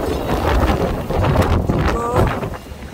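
Strong wind in Sokcho whips sand across an earthworks site, loud gusty roaring and buffeting that rises and falls across the moment.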